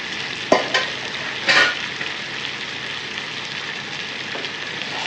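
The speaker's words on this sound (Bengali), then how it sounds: "চিকেনের সাথে আলুটা আবার একটু মিশিয়ে দিই।" Chicken and pre-fried potatoes stirred together in a hot pan, a steady close sizzle broken by two sharp scraping knocks of the utensil early on.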